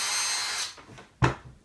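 A cordless power drill whirs steadily as its trigger is pulled, then winds down, followed by a short sharp burst near the end, close and loud with no talk.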